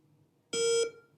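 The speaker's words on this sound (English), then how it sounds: "So it's going to beep, and then I would take my shot" A single short electronic beep from an AWA Mantis X10 shooting drill timer, clear and close in a quiet room, lasting about a third of a second.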